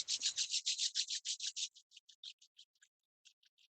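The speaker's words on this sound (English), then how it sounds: "So rub your hands." Palms rubbed briskly together during a yoga session on International Yoga Day, a close series of rhythmic dry swishes that slows and fades into lighter, sparser strokes.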